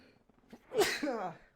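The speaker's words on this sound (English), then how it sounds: "Sorry about that sneeze." A single close, sharp sneeze bursts out after a quick inhaled breath.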